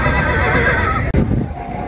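A horse neighs loudly and close at a horse and livestock market in Santiago de Tequistengo, a long whinny over busy market noise, followed by a brief dropout and a quieter background.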